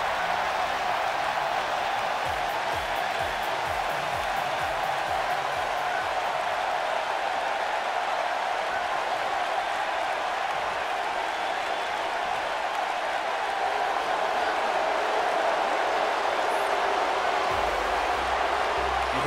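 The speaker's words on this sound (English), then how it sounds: "Getting a thunderous ovation in the live crowd of Birmingham, Alabama." A large arena crowd in the WWE 2K19 video game, set in Birmingham, Alabama, roars and applauds in a steady, dense wall of cheering that holds throughout without letting up.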